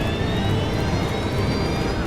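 A KLM jet airliner roars loudly along a foggy runway at close to 200 miles an hour, its engine noise a dense, steady rumble with a high whine and no voices.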